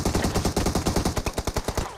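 Rapid automatic gunfire from the video game PUBG rattles out in a dense burst of evenly spaced shots, loud and continuous across the whole span.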